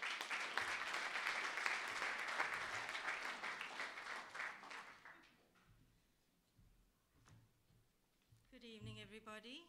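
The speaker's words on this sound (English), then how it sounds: "A round of applause for Desire Paulson, people." Audience applause at an open lecture greets a speaker being introduced, a dense, loud wash of clapping for about five seconds that fades into quieter scattered claps, with a voice speaking near the end.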